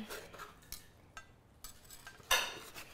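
Knife slicing grilled skirt steak on a board during indoor grilling, several short scraping and tapping strokes spaced irregularly, close and fairly quiet, ending with a sharper clink.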